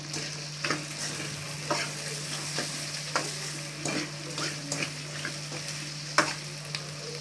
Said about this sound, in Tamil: நல்லா இந்த ரெண்டு நிமிஷம் வதங்கட்டும்.